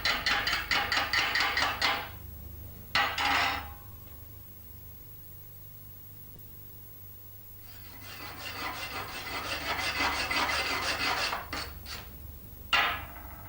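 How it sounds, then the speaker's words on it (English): A chipping hammer knocks slag off a fresh weld bead in quick rasping bursts of scraping taps, separated by quiet pauses, close up with no talking. "Eye protection is essential when using the chipping hammer to remove the slag left on the weld"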